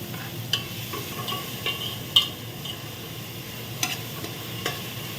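Onions sauté with salt in a pressure cooker for chicken biryani, a soft continuous sizzle with occasional light scrapes and clinks of a utensil against the pot.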